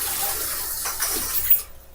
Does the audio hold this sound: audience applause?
no